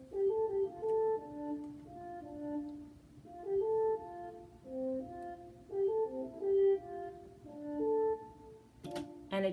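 An orchestral horn section plays its part alone in a composed piece, a soft legato line of sustained, overlapping tones in gentle swelling phrases, heard clearly with nothing underneath, ending with a brief percussive hit.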